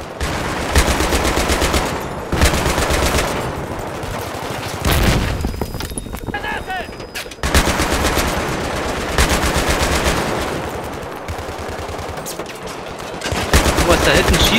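Battlefield 3 gameplay with heavy, loud bursts of machine gun fire that come in long sustained volleys, broken by short pauses and occasional distant shots.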